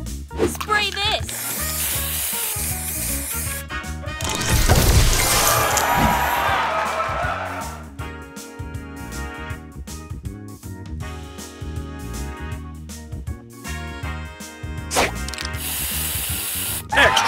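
A spray booster effect in a bombs-away rainbow heist puzzle video game, a loud hissing sizzle burst that swells midway over busy game music and jingles, with an announcer voice calling out.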